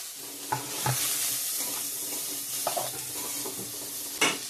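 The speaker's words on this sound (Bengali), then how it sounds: "সোয়াবিনটা এখন ভেজে নিব" Soybean chunks fry in a pan with a steady, hissing sizzle. Occasional stirring scrapes and a louder clink come near the end, heard close with no voices.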